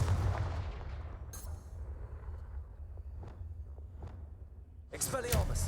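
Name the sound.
Confringo spell cast in Hogwarts Legacy video game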